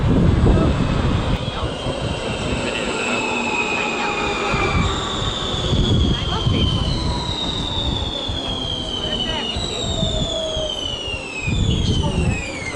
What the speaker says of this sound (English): we're going back into the city centre on the metro